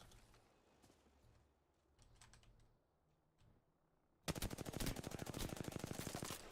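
Enemy gunfire in the Apex Legends video game, quiet scattered clicks at first, then a loud rapid automatic burst of shots firing nonstop for the final two seconds.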